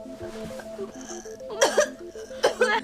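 Two harsh coughing bursts, close and loud, over a quiet tonal background with faint voice-like sounds; each cough is brief and raspy.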